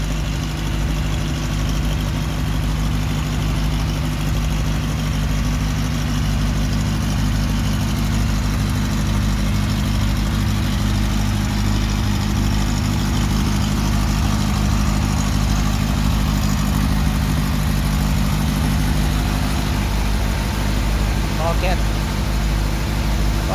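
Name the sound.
engine idling, powering electricity for a farm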